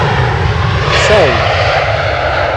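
Jet airliner engines roar steadily at Edinburgh airport as Ryanair jets arrive, a loud continuous rumble with a brief whine sweeping through mid-clip, while people talk over it.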